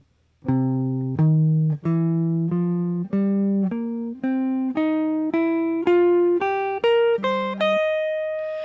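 A guitar plays a slow ascending minor pentatonic scale with an added major third, one clear note at a time, about a dozen notes, ending on a sustained high note.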